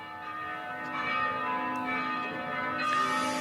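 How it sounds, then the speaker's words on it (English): Ceremonial church bells ring in Warsaw during a World War II commemoration, their sustained, overlapping tones steady and fairly loud, swelling slightly over a few seconds with no voices. "perhaps you can hear in the background the church bells"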